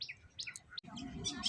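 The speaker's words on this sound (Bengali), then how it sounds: "পাখির কিচিরমিচির ডাক।" Small birds chirp in quick, bright bursts near a rural lane beside flooded fields, with several overlapping calls over a soft, steady outdoor background.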